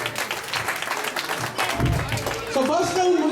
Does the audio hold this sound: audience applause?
yes